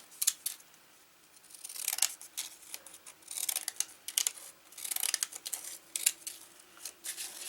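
Scissors snipping through paper for 5x5 journal signatures, a run of crisp, close, fairly quiet cuts in uneven bursts with no talking.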